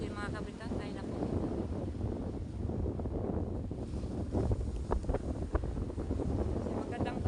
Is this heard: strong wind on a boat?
yes